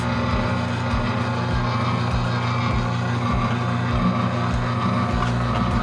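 A wheatgrass juicer presses blades of wheatgrass with a little added water, its motor giving a steady loud drone with a repeating low rhythmic churn, alone without talk.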